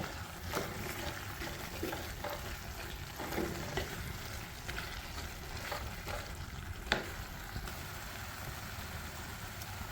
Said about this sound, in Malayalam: അത്ര നന്നായിട്ടൊന്ന് ഇളക്കി യോജിപ്പിക്കുക